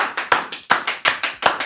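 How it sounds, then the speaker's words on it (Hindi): A few people on a podcast set clap in a sparse, uneven rhythm, close and fairly loud, roughly ten distinct claps over under two seconds with no talking. "तालियां भाई तालियां"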